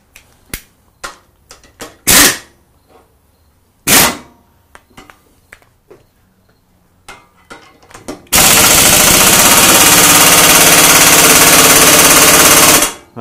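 A torque wrench tightens a clamp: scattered sharp clicks and a couple of louder knocks, followed by a loud, continuous rattling buzz that fills the last several seconds.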